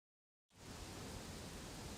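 Roaring waterfall in Harvest Moon: A Wonderful Life, a constant dense hiss that starts abruptly after a short silence and holds steady.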